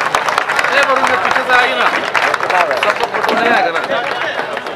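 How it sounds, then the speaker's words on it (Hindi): Applause for the prize winners at a 2022 football tournament prize distribution in Ranchi: dense, steady clapping from a crowd, continuous throughout, with a loud announcer's voice speaking over it. "तालियां एक बार जोरदार बनती है इनके लिए।"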